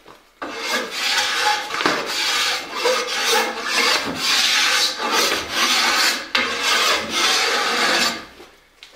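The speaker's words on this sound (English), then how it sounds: "you don't want to just come right here and keep scraping away like that" A scraper rasps steadily along a wooden longbow limb during tillering, giving repeated close, loud scraping strokes in an almost continuous rhythm.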